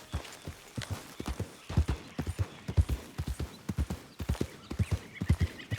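Horse hooves clip-clopping along a road in Red Dead Redemption 2, a steady rhythmic stream of close hoofbeats at a walking or trotting pace.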